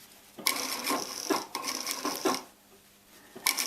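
Sewing machine stitching a pillow cover, quick mechanical whirring bursts in several short runs with brief pauses between, close and clear, with a new run starting at the end.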